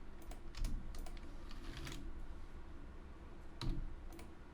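Typing on a computer keyboard while entering a search term, with soft clicky keystrokes in short bursts, faint and close, over a steady background hiss.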